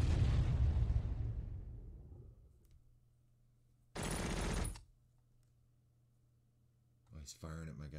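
Tanks firing in the wargame Lock N' Load Tactical, one long rumbling blast fading out, then a short sharp burst of fire and another shot near the end, loud bursts against a quiet low hum.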